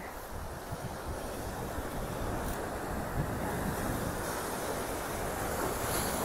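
Ocean waves crash continuously on Tenneti Park beach in Vizag, a steady, loud roar of surf mixed with gusting wind on the microphone.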